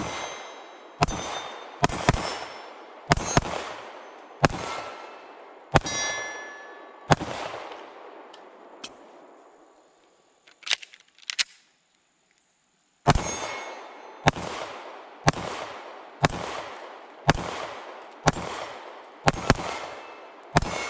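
A Taurus G3C 9mm pistol fired in two strings of sharp, loud shots with ringing echoes, about seven rounds, a pause of several seconds, then about eight more at a steady rhythm.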